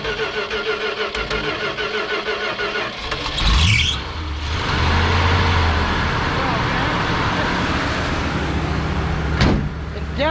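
An abandoned 1970 Dodge D-100 truck, first started in roughly two decades, cranks with a squealing whine, catches and then holds a steady, loud idle, with people talking nearby.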